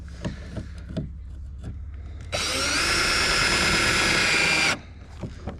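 A power drill drives a screw into a plastic fishing kayak while mounting an accessory, a steady high whirring burst of about two seconds, preceded by a few soft clicks and handling knocks.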